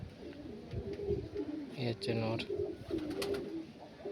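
Pigeons at a breeder's loft in Dankuni, Hooghly coo softly in short low bursts under someone speaking close by, with faint background chirps.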